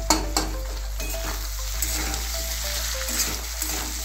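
Spices with cumin and coriander powder sizzle in hot oil while being stirred in a pan, a continuous close frying hiss punctuated by soft scraping strokes.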